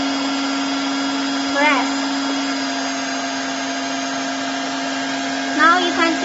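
A TOP2000D welding machine hums steadily with its heating switch on, a constant tonal drone with a couple of brief rising chirps; someone speaks briefly at the start.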